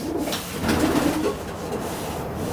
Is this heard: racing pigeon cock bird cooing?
yes